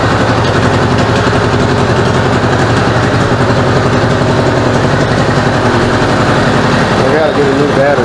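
A 1986 Honda Goldwing GL1200 SE-I motorcycle, long stored with mouse nests in the tailpipe, runs at a steady, loud idle with a constant low pulsing throb throughout.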